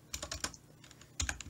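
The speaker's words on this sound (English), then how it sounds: "We're going to type in the following employee or NI number" Typing on a computer keyboard while entering an employee number into a Microsoft Access database form, with a quick cluster of close keystrokes, a short pause, then another burst of taps.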